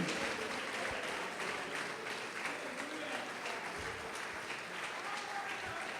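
A church congregation claps during a sermon, with fairly quiet, continuous applause and a few louder thumps. Faint voices are audible beneath the clapping.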